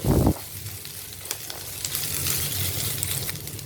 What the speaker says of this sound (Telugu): మీడియం ఫ్లేమ్లో ఒక రెండు మూడు నిమిషాలు ఫ్రై చేసుకోవాలి